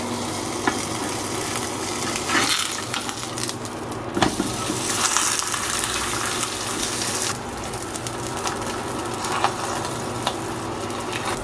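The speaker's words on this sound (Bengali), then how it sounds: "এখানে হচ্ছে মানে পরোটাটা ভাজবো, আর এদিকে হচ্ছে আলু ভাজিটাও প্রায় হয়ে গিয়েছে।" A paratha fries in a pan with a continuous loud sizzle, mixed with some watery hiss and occasional clattering bursts, and no voices.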